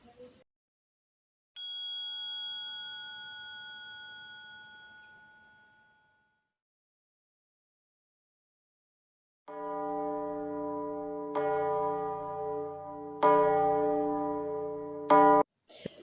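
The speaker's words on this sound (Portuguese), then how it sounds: "o som vem do mesmo lugar, de um sino, só que um sino é menor, o outro é maior" A small bell gives a bright, thin ring that slowly decays, then after a pause a larger bell sounds deeper and fuller, struck several times in sequence with sustained ringing tones.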